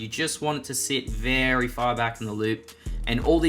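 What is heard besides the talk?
No everyday noises stand out.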